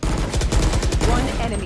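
Burst-fire gunshots in the video game Valorant, a loud, close, rapid stream of repeated shots that hammers on steadily for the whole stretch.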